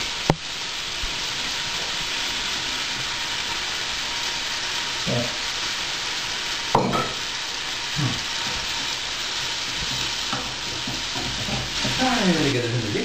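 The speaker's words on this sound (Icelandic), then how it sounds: "steikjum þetta vel. Þannig ég vil hafa þetta vel steikt" Pork for pasta carbonara sizzles steadily in a hot pan, a dense, continuous frying hiss close up, with occasional stirring scrapes and small clinks over it.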